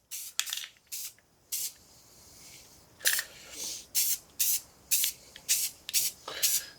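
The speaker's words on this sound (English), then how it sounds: "is spray paint these, and I'm gonna use a black paint, and we're just gonna hit the cutout areas." Black spray paint hissing from an aerosol can onto the cutout areas of homemade wrestling trophies, in about a dozen short bursts of varying length, close and fairly loud with quiet gaps between.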